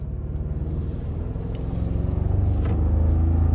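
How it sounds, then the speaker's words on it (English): A 2024 Toyota Tacoma Limited pickup driving on the road, heard as a continuous low engine and road rumble that grows slightly louder and fuller toward the end, with no talking. "let's go ahead and take this new 2024 Toyota Tacoma Limited out on the road for a test drive"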